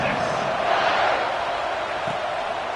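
Stadium crowd at a college football game between Texas and Alabama before the kickoff, a steady roar of cheering voices filling the whole stretch without a break.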